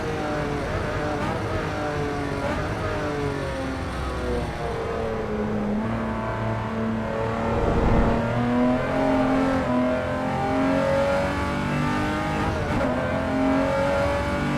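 A race car engine in the Assetto Corsa EVO driving game drones continuously, revving up and down through gear changes with steady rising and falling pitch, loud and close with no talking.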